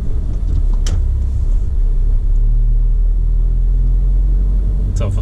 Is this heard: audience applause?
no